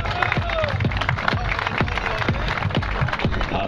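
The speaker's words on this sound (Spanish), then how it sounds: "El aplauso que renovamos." Audience applause at a city contest and prize draw in Miramar, a dense, steady clatter of many hands filling the whole stretch, with crowd voices mixed in.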